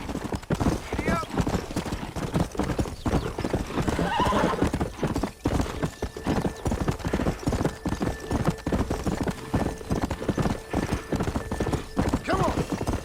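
Horse galloping in Red Dead Redemption on PS5, with loud, steady, rapid hoofbeats throughout and a couple of whinnies, while a person talks over the gallop.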